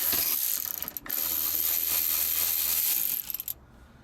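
A ratchet turns a T40 Torx bit to back out a small lower bolt during a harness bar install on a 2001-2006 Mini Cooper. Close, rapid ratcheting clicks run continuously, break briefly once, then stop near the end.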